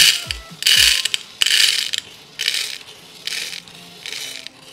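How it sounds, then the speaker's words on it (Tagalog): Pebbles poured into a glass jar for terrarium drainage, heard as several rattling, clinking bursts of stones striking glass, loud and close, with no voices. "first step natin, maglalagay tayo ng pebbles for drainage."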